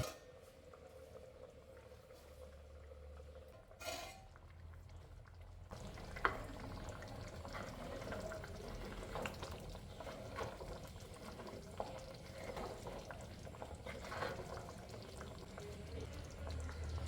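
Soft, steady bubbling and simmering of raw banana curry in a clay pot, a faint continuous crackle with occasional small clinks.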